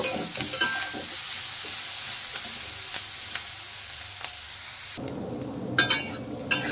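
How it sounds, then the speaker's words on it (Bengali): Mixed vegetables for a navratna pulao frying in a pan with a pinch of salt, giving a steady close sizzle broken by scraping stirs, then a louder burst of clattering and crackle near the end, no talking. "নুন দিয়ে দেওয়ার পরে আরেকটু নেড়ে চেড়ে ভেজে নেব"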